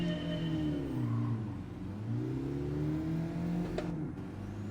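A race car engine in Gran Turismo 7 held at full throttle from a standing start, its loud whining tone rising and falling through gear changes, with one brief sharp click near the end.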